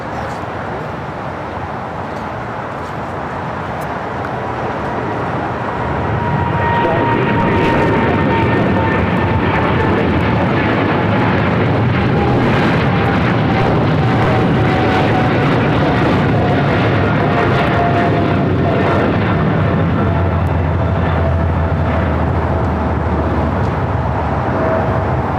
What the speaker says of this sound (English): This is China Airlines Cargo 5382 taking off to Miami, Florida on a 777 freighter.